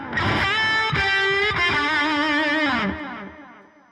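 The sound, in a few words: lead electric guitar with stacked delay and reverb effects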